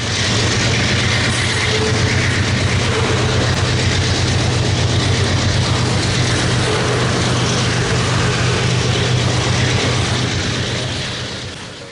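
A pair of GE locomotives labours hard to haul train 400 out of Field, British Columbia, a steady loud diesel roar with rumbling railcars that holds for the whole stretch and begins to fade at the end.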